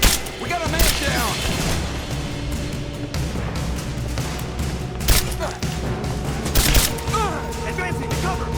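Dense gunfire rattles through a Rise of the Tomb Raider firefight, with repeated bursts and loud booming shots over a constant din, while soldiers shout under the shooting.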